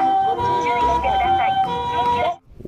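Toy ambulance siren playing an electronic warbling tone of stacked pitches, loud and close for about two seconds before cutting off abruptly.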